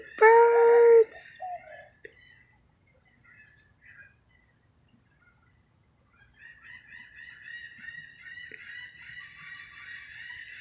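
Outdoors, a rooster crows loudly and close at the start, then after a quiet stretch other birds chirp and call more softly in a continuing chatter.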